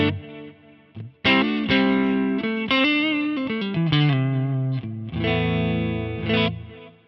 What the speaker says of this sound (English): I'm playing a Strat style guitar with a humbucker in the bridge.